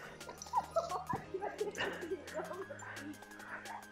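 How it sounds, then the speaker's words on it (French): Cara, a female dog, whimpers and lets out a few high yips at close range indoors, while someone speaks over and between her cries. "Si vous voulez voir la chienne."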